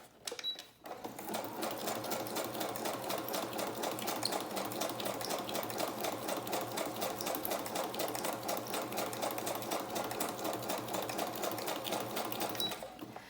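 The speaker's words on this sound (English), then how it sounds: "let me just run that through the sewing machine." A sewing machine stitches rapidly and steadily, a fast mechanical whir with rhythmic clicking that runs for several seconds before stopping.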